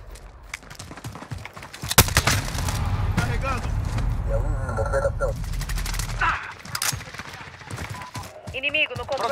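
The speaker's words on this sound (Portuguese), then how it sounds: "Estão atirando em mim!" Multiplayer Domination gunfire in Call of Duty: Modern Warfare, dense overlapping bursts and single shots close and loud, mixed with in-game radio voices and a player speaking.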